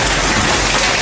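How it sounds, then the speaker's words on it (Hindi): Heavy rain and hail pour down in a dense, steady roar, loud and close, with no pauses or voices. "गाइस भयंकर बारिश हो रही है"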